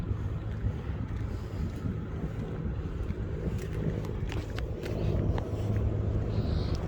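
A boat on open water off an island east of Singapore, heard as a steady low rumble with wind buffeting the microphone and a slight swell in loudness near the end.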